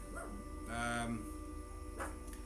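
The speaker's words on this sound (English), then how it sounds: "I need to let my dog in because she's bitching that I've left her outside" A dog barks and whines from outside, muffled and fairly faint, with two short bursts of yipping over a steady background hum.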